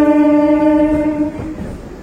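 Train with a shunting locomotive at Vijayawada junction: a loud, sustained horn-like tone holds for over a second, then fades into a low rail rumble.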